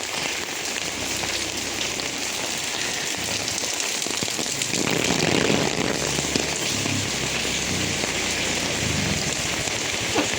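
Rain falls steadily, a broad, continuous hiss of drops pattering on surfaces nearby, growing slightly heavier partway through with no voices.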